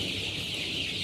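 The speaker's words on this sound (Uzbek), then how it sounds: "25 kunlik jo'jalar." Young 25-day-old chicks cheep and cluck together in a continuous close chorus of high chirps, with no talking over them.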